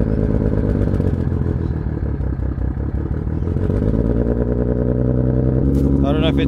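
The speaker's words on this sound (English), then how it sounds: "I'm assuming the car has a massive, massive exhaust leak." A car engine with a massive exhaust leak idles loudly up close, giving a rough, ragged clatter and a lumpy, uneven pulse.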